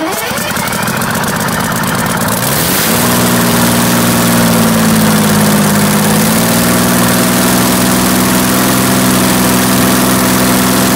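A Detroit 6-71 two-stroke diesel engine cranks and then catches on its first start, settling into a loud, close, steady idle with a rough, uneven knocking beat.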